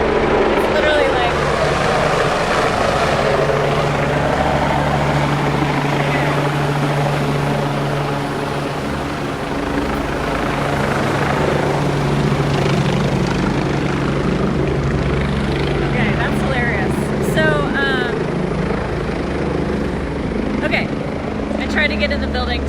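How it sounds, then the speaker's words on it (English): Helicopters land nearby at a workplace, their rotors and engines making a loud, steady whirring drone that fills the background throughout while a person talks over it. "you can hear my helicopters landing"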